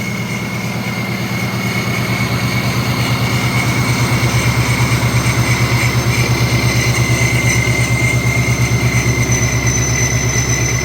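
A 2018 or newer Ford Mustang V8 fitted with an ESS G3X supercharger, idling steadily up close with a low, even rumble and supercharger whine on top, no talk.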